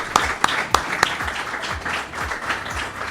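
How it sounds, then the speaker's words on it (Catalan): An audience at a live Catalan talk show claps for its guest. A few sharp, separate claps come first, then a softer, diffuse patter of hands that lasts about three seconds. "Volem donar una forta aplaudiment."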